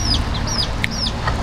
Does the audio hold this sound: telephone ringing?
no